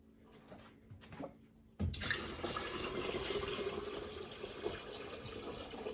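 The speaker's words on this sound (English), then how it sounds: "I'm going to add a little bit of water to this and then get it mixed in." A quiet room with faint handling sounds, then water suddenly starts flowing steadily and splashing into a container of fruit mead mix, continuing without pause.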